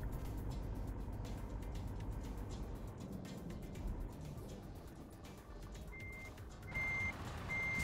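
Reversing beeps from a truck in the video game Euro Truck Simulator, a faint, steady repeating tone that starts late and sits over a constant low engine rumble.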